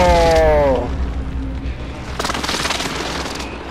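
Enemy precision airstrike explosions boom in a video game battle, a heavy blast at the start followed by a rattling series of smaller impacts and crackling bursts, with a synthetic voice announcement fading out early.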